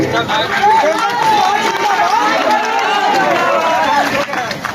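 A large crowd fills a nomination rally with a loud, dense, continuous roar of many voices and shouting, sustained without a break from start to finish.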